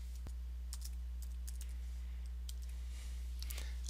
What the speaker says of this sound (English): We can add a task by just typing something.